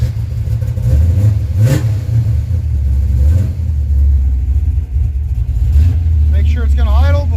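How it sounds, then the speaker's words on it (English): An old project car, unmoved for 26 years, with its engine rumbling and revving loudly and steadily throughout, the pitch rising and falling, while people talk nearby. "The boy's getting ready to start the car"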